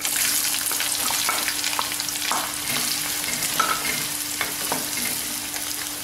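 Onions sizzle and crackle steadily in hot oil, with occasional stirring scrapes, close and fairly loud, no voices.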